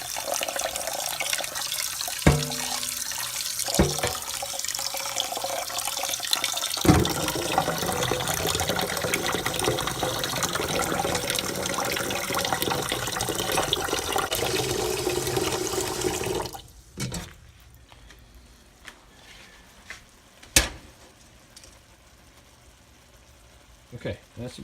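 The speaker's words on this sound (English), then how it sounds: "Now you want to put enough water in there to cover the top of the rice by about 1 inch." Water running steadily into a pot of dry rice for about fifteen seconds, a close, continuous splashing rush, then it stops and scattered clinks and handling knocks follow.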